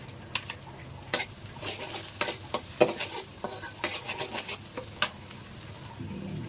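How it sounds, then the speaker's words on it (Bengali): Chopped garlic sizzles in hot oil in a pan for noodles, a steady close frying hiss broken by irregular scraping clicks of stirring. "তারপর এখানে রসুন কুচি দিয়ে দিলাম"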